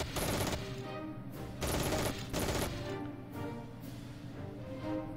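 Machine gun nest firing in the WWII strategy game Battle Academy 2, heard as dense loud bursts of rapid automatic fire in repeated volleys, with steady battle noise between them.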